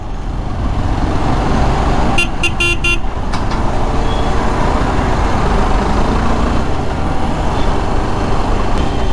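Busy city road traffic in Mysore heard from a moving motorbike, a dense roar of engines and wind with a short burst of car horn toots early on, continuous and loud throughout.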